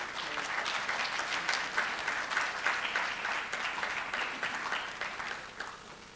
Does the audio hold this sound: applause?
yes